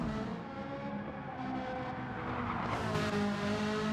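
A race car engine in a racing video game screams near the red line, loud and continuous, with tyres squealing briefly toward the end; the car is running on worn soft tyres.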